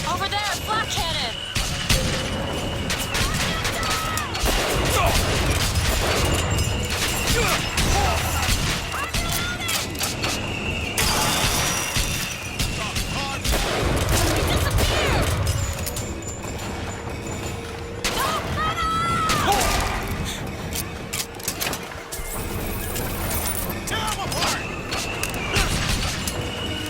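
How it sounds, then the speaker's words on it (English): Booming flak cannon fire in the steampunk shooter Bioshock Infinite, heavy repeated blasts and crashes spread through a dense, loud game soundscape with voices talking over it. "Over there, flak cannon!"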